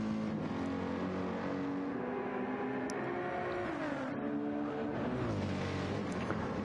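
Old Mercedes race car driving on a circuit, a continuous loud engine drone with shifting pitch as it revs and changes gear, steady throughout.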